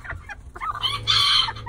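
A rooster and hens cluck close by, short clucks at first leading into a loud, bright crow that fills the second half, with no talk over it.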